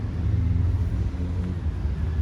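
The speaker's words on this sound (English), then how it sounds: "We can hear the traffic driving around us," Low, steady rumble of road traffic passing at a distance, heard from inside the ruined Charles Church in Plymouth, a continuous muffled drone with no voices.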